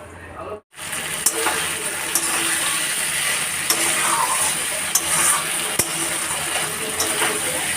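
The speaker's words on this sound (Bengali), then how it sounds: "তো চলো মশলাটা আমি আস্তে আস্তে ভাজতে থাকি।" Spice paste (masala) for a prawn and potato curry frying in a pan over a low flame gives a steady, close sizzle that runs unbroken after a brief gap at the start, with a few faint clicks.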